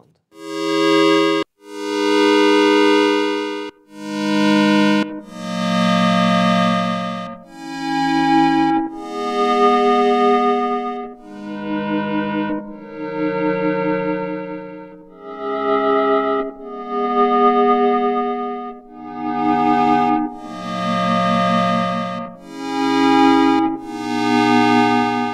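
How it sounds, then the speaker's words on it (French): An Arturia MatrixBrute analog synthesizer plays a run of bright, sustained notes and chords through its analog stereo reverb. Each tone swells and rings out broadly, alone and loud, with short gaps between phrases. "Le Matrix Brut propose aussi une réverb analogique stéréo."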